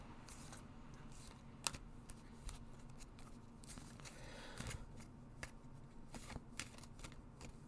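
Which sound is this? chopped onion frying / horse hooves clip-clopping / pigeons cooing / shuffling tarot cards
shuffling tarot cards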